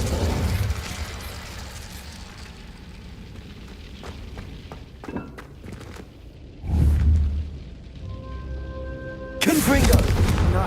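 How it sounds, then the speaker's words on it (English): Confringo spell blasts in Hogwarts Legacy: a sudden explosive boom at about the midpoint, then a second, louder burst near the end, over faint game ambience and scattered clicks. "a Confringo cast travels a bit farther than that of a spell like Incendio"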